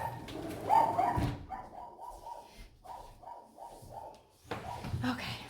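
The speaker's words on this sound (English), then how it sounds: "that's my dogs. Let me let them out real quick." Pet dogs bark indoors in a home, a run of repeated sharp barks at moderate distance after a brief burst of talking, then another voice speaks near the end.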